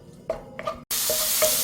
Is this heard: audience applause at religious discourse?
no